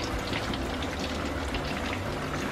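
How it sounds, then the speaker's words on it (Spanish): Cheese frying in a pan over medium heat while mangú is prepared, giving a steady, dense crackle and sizzle like light rain, continuous and moderately close, with no talking. "aquí ya está friendo el queso"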